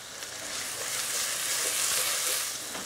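Garlic and ginger frying on high heat in a pot for garlic chilli chicken, a steady loud sizzle with a few faint stirring scrapes, no voices.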